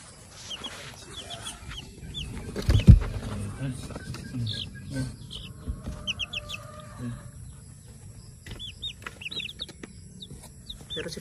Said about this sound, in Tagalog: Yun yung mga sisiw ko.